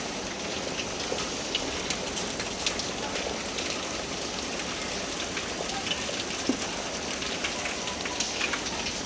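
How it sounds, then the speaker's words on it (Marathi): Steady rain falls on leaves and surfaces around a green house, a constant broadband hiss with scattered drop taps throughout, fairly close, with faint voices now and then. "इथं वरतून पाऊस पडते"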